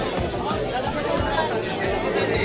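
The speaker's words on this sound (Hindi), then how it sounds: "गजब की भीड़ है।" Busy crowd chatter at Marine Drive, a steady dense babble of many voices close around, with footsteps and street noise mixed in.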